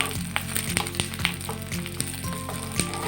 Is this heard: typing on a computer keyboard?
no